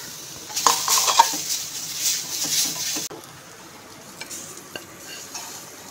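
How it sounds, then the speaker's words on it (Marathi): Grated fresh coconut dry roasting in a pan, soft rustling and scraping from stirring with a few utensil taps, busier at first and then quieter with sparse scrapes. "ओलं खोबरं किसून घेतलेलं आहे, भाजून घ्यायचं आहे।"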